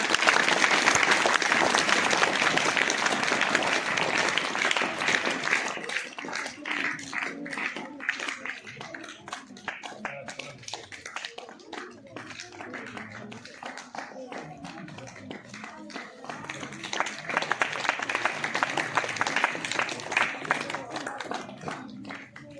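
A room full of children and others at a school prize distribution claps loudly, the applause easing off midway under a murmur of voices, then swelling again toward the end.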